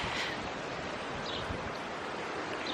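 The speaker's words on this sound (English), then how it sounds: "Oh, it's windy." Gusty wind blows outdoors in a steady broadband rush, with rustling and some buffeting noise against the microphone.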